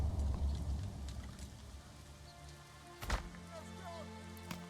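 Steady rain falls in the medieval city-building game Manor Lords, a dense even hiss that stays constant throughout with a brief louder splash partway through.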